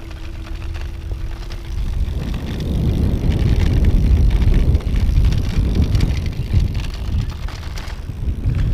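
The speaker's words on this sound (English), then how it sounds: "Just a little bit of rattling going on. I think it's just some of the plasticky fenders and stuff." A Blix Vika+ e-bike ridden over bumpy grass, its plastic fenders rattling, heard as a loud, continuous rumble with wind buffeting the microphone, with no talk.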